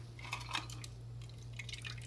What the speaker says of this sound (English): I'm going to take the Yeti, shake it up, and just see how much water is left in it.